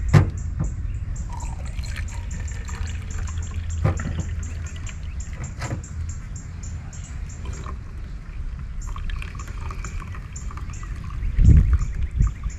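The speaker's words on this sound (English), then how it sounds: "go ahead and pour mine to make sure I got enough." Coffee pours slowly into a cup at a campsite, a long thin trickle with occasional drips and a fuller splash near the end, with faint outdoor background.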